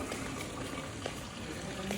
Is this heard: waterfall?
yes